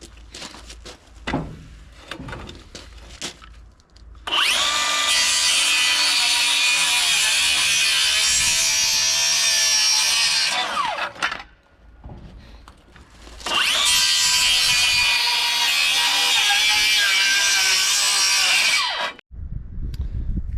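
A Bosch 18V rear handle circular saw makes a 45-by-45 compound miter cut. The blade whines loudly in two long, sustained passes separated by a short pause, with brief handling knocks before the first cut.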